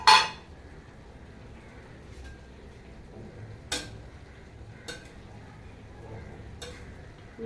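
A vegetarian vegetable curry cooks in a pot, with a loud metal clank at the start, then occasional sharp spoon-on-pot clinks over a faint low simmer in a quiet kitchen.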